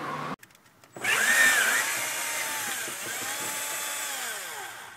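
Power tool whining steadily while removing screws from the rear section of a Smart Fortwo 450 Cabrio, a sustained high-pitched drone after a short click, close and continuous for several seconds.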